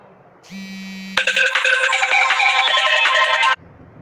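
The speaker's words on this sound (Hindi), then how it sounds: "सॉरी दोस्तों, बीच में किसी का फ़ोन आ गया था" A phone ringtone goes off during a live math lesson, opening with a short steady tone and then a loud, bright, busy melody that plays alone for a couple of seconds before cutting off abruptly.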